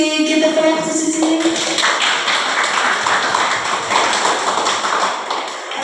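Students applauding a classmate in an English class, a brisk round of close clapping that starts after the teacher speaks and fades out near the end.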